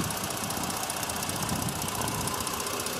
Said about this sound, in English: The vehicle is currently running.